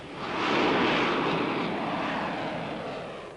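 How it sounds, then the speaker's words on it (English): A US Air Force F-15 Eagle jet passes at an air show with a loud, broad roar that swells within the first second and holds steady before easing slightly, with no voices over it. "Then it was time for a US Air Force F-15 Eagle to show its power."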